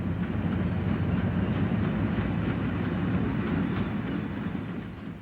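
Diesel multiple unit train running along rails, a loud, steady, close rumble that eases slightly toward the end, with no voices.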